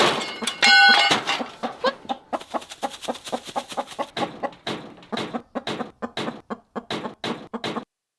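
A rooster on a farm lets out a loud opening call, then clucks in a steady, rapid run of sharp repeated notes, close and clear, with no talk over it.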